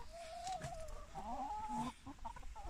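A rescued ex-battery hen clucks up close on an allotment, a few soft drawn-out clucks and warbling calls in quiet outdoor surroundings.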